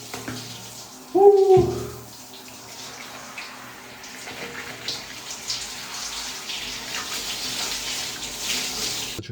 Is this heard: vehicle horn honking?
no